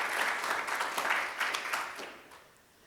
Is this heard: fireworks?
no